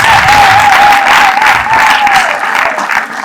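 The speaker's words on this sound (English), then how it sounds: "Let us give these people a round of applause." A crowd applauds at a girls' secondary school career day ceremony, dense sustained clapping close and loud throughout, with a faint tonal whistle or voice running underneath.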